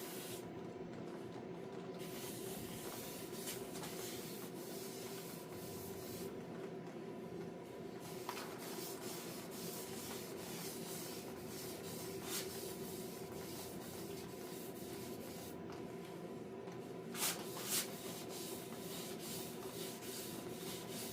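Wet sanding the clear coat on a Farmall 450 tractor gives a continuous, soft rubbing hiss that stays at an even, fairly quiet level throughout, with no voices over it.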